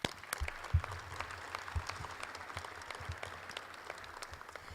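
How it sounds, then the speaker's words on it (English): Applause from an audience at the introduction of a new Green Bay Phoenix women's basketball head coach, a steady, fairly faint patter of clapping hands lasting the whole moment, without speech. "Let's give them a round of applause."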